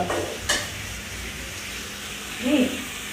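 Raw banana frying in a pan, a steady soft sizzle with a couple of brief utensil clinks and a short burst of voice near the end.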